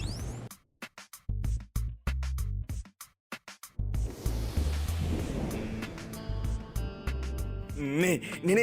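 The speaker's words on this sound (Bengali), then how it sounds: "বৃষ্টি আসছে।" Thunder rumbles ahead of approaching rain in an animated rural scene, low booming bursts broken by silent gaps, then a longer rolling rumble with a rain-like wash, and a warbling tone near the end.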